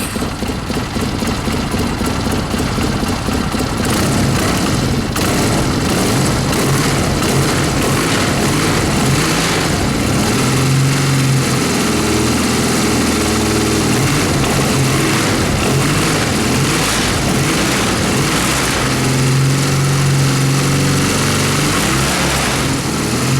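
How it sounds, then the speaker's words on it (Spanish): A Honda CB 250 motorcycle engine running after an oil change and valve adjustment, a loud steady mechanical drone close by with shifting revs throughout, no talking. "voy a arrancar la moto, un poquito que el aceite lo mueva"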